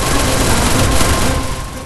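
Rapid, sustained SCAR rifle fire in a battle-royale style shooter game, a dense loud burst of automatic shots running continuously with no pauses.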